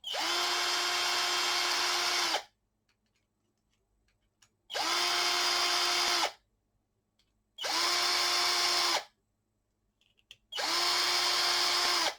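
Power screwdriver driving four screws into a model ship holder: four loud, even whirring bursts of one to two seconds each, separated by quiet pauses, with no talking.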